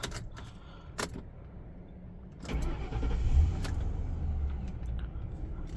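Key turned in a 2006 Mercury Grand Marquis, then its 4.6 liter V8 cranks and catches, settling into a quiet, smooth low idle; faint clicks precede the start, heard from inside the car without talk.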